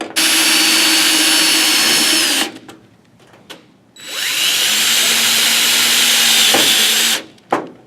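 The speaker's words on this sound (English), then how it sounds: "you can go ahead and drill it into the fixture" A power drill whines at high speed in two long bursts separated by a short pause, close and loud, driving a screw into an LED emergency light fixture, ending with a brief final rev.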